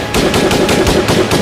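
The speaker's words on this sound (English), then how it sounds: "Konnor 88 uses Assault Rifle." Assault rifle fire from the MSagent video game bursts out in a rapid, loud, steady stream of about six or seven shots with no voices.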